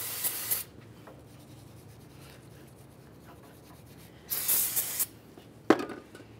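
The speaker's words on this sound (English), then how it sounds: "We'll use some parts cleaner and a little brush." Parts cleaner sprayed onto a lower control arm mounting hole, two short sharp hissing bursts and a final quick spritz, with faint scrubbing from a small brush in between, close and alone.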